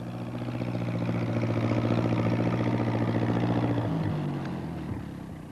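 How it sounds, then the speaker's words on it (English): A tractor engine drones close by as the tractor drives along, a loud, steady mechanical hum that shifts in pitch near the end and then eases off. "He's going to try to get through with his tractor."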